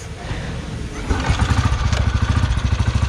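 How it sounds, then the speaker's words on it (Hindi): A 2008 Royal Enfield Bullet Machismo 350 is kick-started and catches about a second in, settling into a close, rhythmic single-cylinder thump that keeps pulsing steadily with no one speaking. "एक किक में स्टार्ट हो गई"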